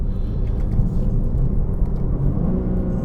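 A BMW M3's engine revs hard against the rev limiter, a loud, steady low rumble holding close by for the whole stretch, with no voices over it.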